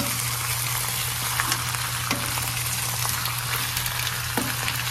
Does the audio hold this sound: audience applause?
no